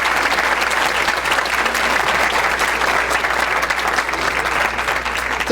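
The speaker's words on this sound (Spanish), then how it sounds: "El aplauso, ¿qué le faltó?" An audience at a lecture applauds, steady dense clapping that fills the room for several seconds without any talk.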